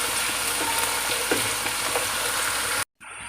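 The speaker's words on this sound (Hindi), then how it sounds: "अब हमने इसको फ्राई करना है सिर्फ 1 मिनट के लिए" Crushed garlic and ginger fry in oil in a pan with a steady, close crackling sizzle, a few faint stirring clinks over it, before the sound cuts out abruptly near the end.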